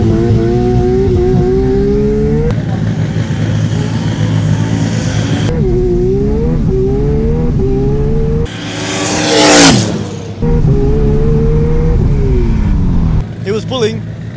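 A roll racing car on a test pass accelerates hard at a Queensland track, its engine rising through several loud gear pulls with brief shift breaks, while a commentator talks over it.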